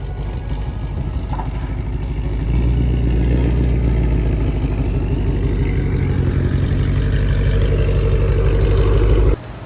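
A 1100 hp Shelby fitted with a custom exhaust revs in neutral with both dual-clutch paddles held, a loud, close, deep engine rumble that steps up and stays raised before cutting off abruptly near the end.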